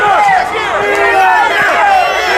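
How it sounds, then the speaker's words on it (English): Wrestling crowd chanting "Fear the Gear" for Spencer Slade during a match, a loud, continuous mass of voices filling the arena close to the microphone. "Folks chanting "Fear the Gear." Crowd really behind Slade."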